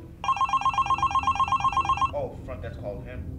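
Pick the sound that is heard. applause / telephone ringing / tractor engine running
telephone ringing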